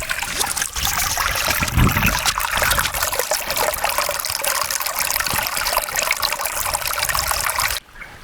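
A hillside stream near the Poomalai Murugan temple in Vellore flows in a steady, close, hissing trickle and gush of water that continues unbroken until it stops abruptly near the end.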